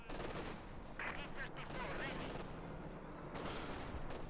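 A strafing run in Company of Heroes 2 rattles out rapid machine-gun fire and blasts, faint and partly under a commentator's voice.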